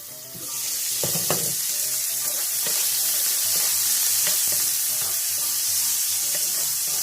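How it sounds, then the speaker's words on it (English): Onions sauté quickly in a pan for depression-era home cooking, giving a loud, close, continuous sizzle broken by a few clicks and knocks of stirring. "So I am just sauteing some onions up right fast."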